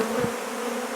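A close, loud swarm of honey bees buzzing in a steady, droning hum at an open hive, with no voices.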